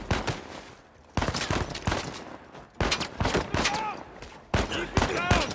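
Sniper and automatic gunfire in Uncharted 4, coming as loud separate bursts with short quiet gaps between them, mixed with battle effects and shouted voices.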